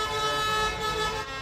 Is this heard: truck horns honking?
yes